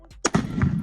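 A shot sets off Tannerite packed with a PS4 console, giving a sharp crack followed by a loud, booming blast that rumbles on afterward.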